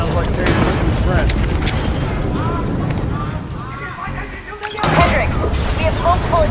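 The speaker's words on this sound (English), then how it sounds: "we have multiple explosions across the facility" Loud, dense battle noise from the video game Call of Duty: Black Ops 3, with repeated booming blasts and crackling impacts, voices shouting faintly underneath, a brief lull before the din surges back.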